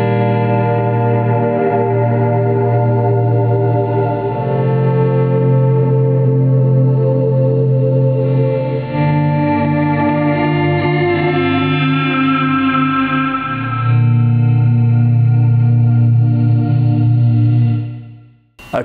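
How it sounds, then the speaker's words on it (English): Electric guitar volume swells run through a digital delay and an El Capistan tape delay, forming a continuous layered ambient wash of sustained chords with soft echoing repeats, loud and alone, fading out at the end. "Let's add the El Capistan back in and let's volume swell in and see what that sounds like."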